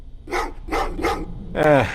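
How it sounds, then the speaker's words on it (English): Dogs bark in the video game Terminator Resistance: three evenly spaced gruff barks, then a higher whining yelp, close and fairly loud with no speech. "Oh, what's with the dogs?"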